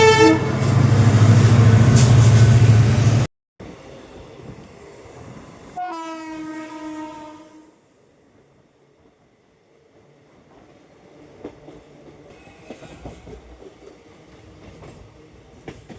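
A train arrives at Sagardighi station, giving a loud horn blast that rings out over quieter rumbling and distant rail noise, after a brief loud opening burst.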